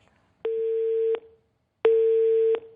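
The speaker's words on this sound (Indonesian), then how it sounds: "Tapi tadi bunyi telepon di kamu kan, di Anda kan." Two long, steady electronic telephone tones sound during a call, each lasting under a second, separated by a short pause, clear and alone without any voices.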